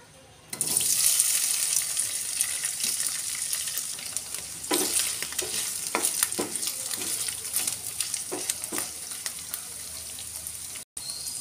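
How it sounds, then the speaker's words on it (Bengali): Paneer frying in a pan gives a loud, steady hiss of oil that starts abruptly and carries on close by, broken by spatter crackles and occasional scrapes of a utensil. "এবার একটা প্যানে প্রথমে পনিরটা ভেজে নেব"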